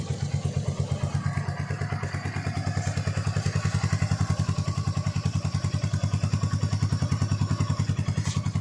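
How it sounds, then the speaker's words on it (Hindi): A Royal Enfield Meteor 350 motorcycle idles just after starting, with a steady, rapid thumping pulse, close by and even in rhythm, with no talking. "तो यहाँ पे जो बाइक हमने स्टार्ट कर दी है"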